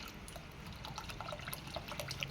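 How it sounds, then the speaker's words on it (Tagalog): Broth poured into a cooking pot, giving a quiet, continuous watery trickle and splash with faint dripping, heard alone. "sabawan natin ang kaunti guys sabawan natin para may higupin yan"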